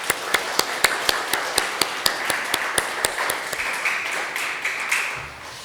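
Church congregation at a Sunday worship service clapping together, sharp evenly spaced claps over a steady wash of applause, fairly near and continuous throughout.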